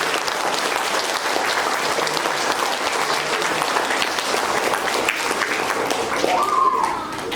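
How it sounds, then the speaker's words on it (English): Steady applause from a school awards assembly audience honoring third graders for perfect attendance, dense clapping throughout with a few cheers rising near the end. "Big round of applause for third grade perfect attendance."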